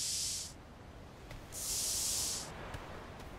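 Spray paint hisses in the game Atlas in two separate bursts, each about half a second to a second long, soft and airy, with a faint click or two between them.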